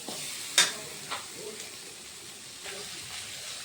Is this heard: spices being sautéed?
yes